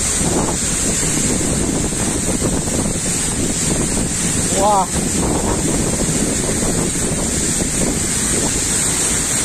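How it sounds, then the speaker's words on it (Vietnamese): Waterfall at Bat Cave Falls in Kbang, Gia Lai, crashing down and throwing spray like rain before running into a stream; a steady, close roar with wind buffeting the microphone, and a single brief exclamation from a voice. "Đây, dòng thác nó đổ, sau khi đổ xuống thì chạy ra dòng suối này."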